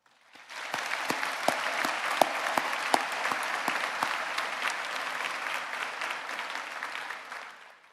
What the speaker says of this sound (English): give a round of applause for all of our amazing staff